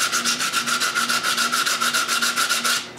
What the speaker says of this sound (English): Then I can sand the exterior.